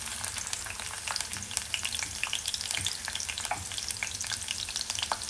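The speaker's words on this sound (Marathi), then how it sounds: "तर तेल सुद्धा चांगलं गरम झालं की आपल्याला टाकायची आहे ठेचलेली लसूण." Crushed garlic hits hot oil and crackles in a steady, close sizzle with scattered sharp pops and faint stirring, fairly quiet overall and without any voices.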